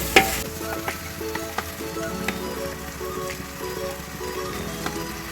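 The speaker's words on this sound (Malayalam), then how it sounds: "നമ്മൾ വേപ്പിലയും കൂടി ഇട്ടിട്ട് ഇനി വഴറ്റിക്കൊണ്ടിരിക്കുകയാണ്" Onions and tomatoes sautéing with curry leaves in a pan for a Malayalam-style chicken biryani gravy, a steady close sizzle broken by a few sharp scrapes and taps of a spoon stirring.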